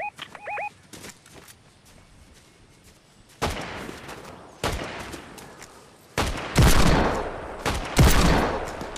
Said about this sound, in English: Oh, dude, I hit him with that pistol.